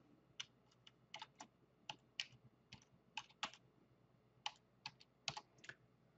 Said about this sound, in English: I'm typing a little slow.